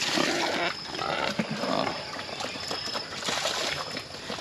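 Pigs roam a farm area of more than two hectares enclosed with hog-wire netting, giving a steady mix of grunts, snorts and rustling that stays fairly loud and close throughout, with no talking.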